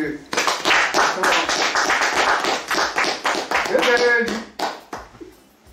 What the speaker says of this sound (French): On va les acclamer